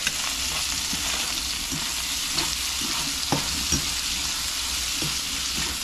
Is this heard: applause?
no